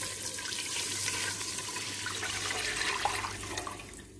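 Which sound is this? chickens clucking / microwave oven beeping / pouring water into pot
pouring water into pot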